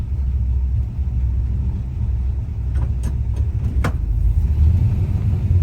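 Engine of a 1966 Chevy Caprice while driving, a steady loud low rumble from inside the car with a few brief clicks partway through.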